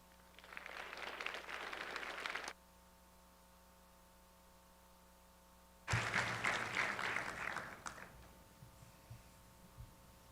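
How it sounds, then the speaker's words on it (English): Audience applause at a spring graduation ceremony, a full burst of clapping that stops abruptly, then a pause of near silence before a second strong round of clapping that slowly thins out. "Can we give them another round of applause, please?"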